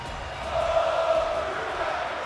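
Virtual arena crowd in the WWE 2K24 wrestling game during a Monday Night Raw match featuring Drew and Bron Breakker, a steady moderate roar of cheering that swells slightly midway and holds.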